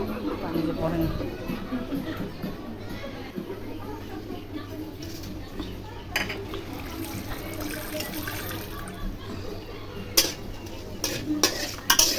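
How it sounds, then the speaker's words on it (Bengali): Mango pieces are stirred in mustard oil for pickle, with a soft sizzle, scraping and clinking of a spoon against the pan, and a few sharper knocks near the end, while a person speaks over it. "আমগুলো এখন আমি একটু তেলে নাড়াচাড়া করবো"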